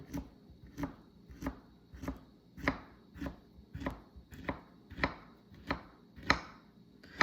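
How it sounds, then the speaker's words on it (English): A knife slicing through a banana on a cutting board, a dozen or so soft, evenly spaced chopping taps close by, with no talking. "Then slice the other banana."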